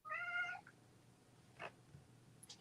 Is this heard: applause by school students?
no